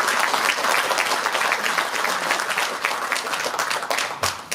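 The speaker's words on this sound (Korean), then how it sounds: "네 분을 큰 박수로 모시겠습니다." An audience gives loud, sustained applause to welcome four guests at a book concert, a dense continuous wash of clapping from start to finish.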